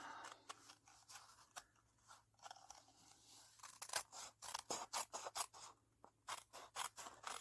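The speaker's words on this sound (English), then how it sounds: "I just take my paper snips that are now once again hiding from me, there they are, and carefully go around the outer edge of the flap" Paper snips cut around the edge of a card flap for a handmade birthday card, giving a quiet, close series of crisp snipping crunches that come in uneven bursts, faster toward the end.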